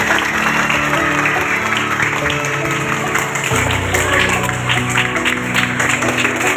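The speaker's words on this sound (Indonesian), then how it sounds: "Tepuk tangan dulu." An indoor audience at an anti-bullying outreach session breaks into steady, fairly loud applause that carries on for several seconds under a mix of voices.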